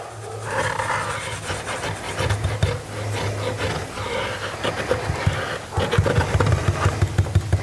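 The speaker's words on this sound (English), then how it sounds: "We're also going to be wet distressing the horse because when I went to sand it, it was just taking way too much off." A thrifted wooden horse coated in Old 57 paint is wet-distressed by hand, giving close, steady scrubbing and rubbing strokes with a low hum underneath and sharper rhythmic scrapes near the end.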